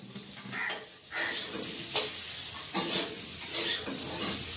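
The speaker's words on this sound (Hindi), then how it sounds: "तो यहाँ पे आलू और सूटी दोनों को भून रहे हैं दोनों को, आलू और सूटी को।" Potatoes and suran (elephant foot yam) frying in a pan, with a steady sizzle and repeated scraping stirs of a utensil against the metal throughout.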